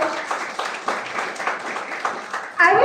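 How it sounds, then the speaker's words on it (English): School audience claps for the college principal, a thin, uneven spatter of applause at moderate distance, ending with a louder burst of voices. "Please clap for her."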